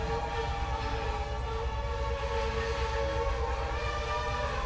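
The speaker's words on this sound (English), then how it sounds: "Oh my gosh, Train. We hear you screaming." A passing train sounds its horn in a loud, sustained, multi-tone blare that holds steady throughout, over the low rumble of the rail cars.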